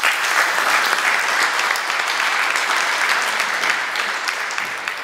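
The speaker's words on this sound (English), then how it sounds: "So again, a round of applause to Luzius." An audience at a blockchain event applauds a speaker after his talk, a full, sustained round of many hands clapping at a steady level that eases off slightly toward the end.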